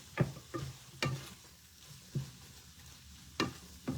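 Noodles stirred in a pan while cooking, several soft scraping, sizzling strokes at an uneven rhythm, close by, with quieter stretches between them.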